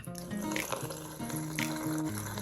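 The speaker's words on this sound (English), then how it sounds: "turn on your faucet and adjust the flow just perfect in your own liking" Water runs steadily from a faucet into a sink, a continuous splashing hiss with background music playing over it.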